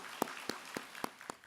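Audience members at a Buddhist dharma talk clap in a slow, deliberate rhythm, five or six separate sharp claps evenly spaced, close and moderately loud over a quiet room.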